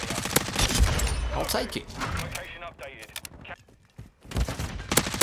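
Hip-fired automatic gunfire in Call of Duty MW2, fast loud volleys of shots in bursts with a brief lull near the end, mixed with a player talking.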